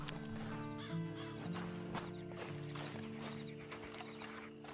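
Horse hooves clip-clopping in the Red Dead Online game world, a steady walking rhythm set under a loud, continuous bed of music and ambient sound.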